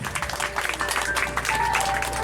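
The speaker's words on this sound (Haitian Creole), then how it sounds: "je vous demande une fois de plus de les applaudir. Plus fort." An audience claps at a community event in Léogâne, Haiti, with dense sustained applause and a faint crowd murmur throughout the short stretch.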